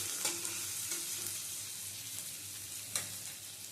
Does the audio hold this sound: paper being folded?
no